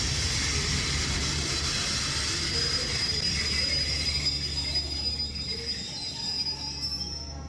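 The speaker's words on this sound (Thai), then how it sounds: "อันนี้เราขึ้นไปบนรถไฟกันนะครับ" Rapid passenger train no. 140, running from Ubon Ratchathani to Bangkok with second-class air-conditioned sleeper cars, gives a steady, loud rolling rumble with a high wheel hiss that continues throughout and eases slightly near the end.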